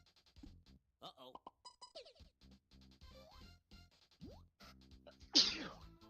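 A single sharp sneeze bursts out near the end, louder than the quiet talking and game-like sounds before it.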